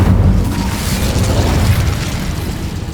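Incendio fire spell blast in the video game Hogwarts Legacy, a loud sustained roaring whoosh of flame with booming, crackling bursts, steady and close throughout.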